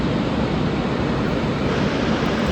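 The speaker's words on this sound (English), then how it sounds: "you will come across Wedgemount Waterfall." Wedgemount Waterfall, which drops over 300 meters from a lake above, gives a steady, dense roar of rushing water, loud and unbroken, with no voices.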